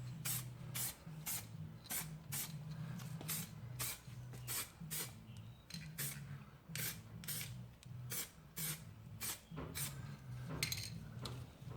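Light primer coat sprayed from an aerosol can onto a repaired rusty sill of a Jaguar XK8, heard as a rapid series of short, sharp hissing bursts in an even rhythm over a steady low hum, close and fairly loud.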